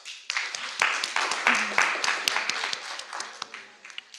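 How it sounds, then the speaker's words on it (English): An audience at a youth assembly panel session gives a short, moderately loud round of applause, with scattered individual claps standing out before it fades. "let's make a round of applause"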